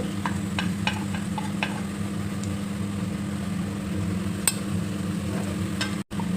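Garlic frying in oil in a pan while making fish pickle, a steady close sizzle running throughout with a few light clicks of stirring against the pan, no talking.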